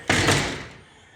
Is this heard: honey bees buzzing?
no